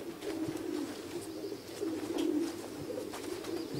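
Racing pigeons coo continuously as they arrive back at a loft in Toruń after a race flight from Strasbourg, a dense, steady, close chorus of soft throaty calls.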